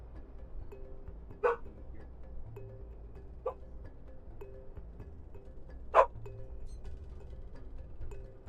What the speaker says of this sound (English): I don't know if you guys can hear that my dog is yelling at me.